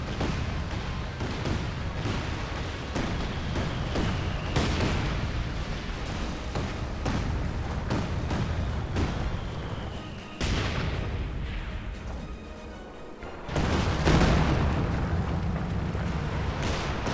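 Katyusha rocket artillery barrage in the video game Company of Heroes 2, a dense, continuous roar of overlapping explosions and bursts that briefly drops away near the end before a loud fresh wave of blasts returns.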